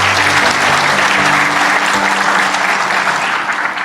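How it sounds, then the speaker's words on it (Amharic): Sustained applause from an audience at a talk on overcoming stress, steady and dense clapping filling the whole stretch without speech, tapering slightly at the end. "አጨብጭቡ ለዚህ።"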